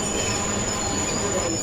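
Steady rumbling noise of a Class 66 locomotive in Train Sim World 3, with a thin, continuous high-pitched squeal of wheels running throughout, close and constant.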